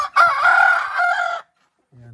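A rooster on a farm crows once, a short, loud, strained call lasting just over a second, followed by a faint cluck.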